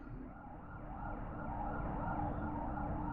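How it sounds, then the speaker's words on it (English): Police sirens from the video game Earthbound wail in overlapping, rising and falling sweeps, holding steady and fairly loud throughout, with no one talking. "Notice the sound of the police sirens immediately"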